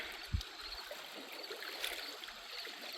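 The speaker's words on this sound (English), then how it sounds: "Let's go ahead and rinse this off in the water." A slag rock is rinsed in the shallow water of the Lake Erie shore, making a faint, soft trickling and swishing. A single small splash comes near the start, over a steady outdoor hiss.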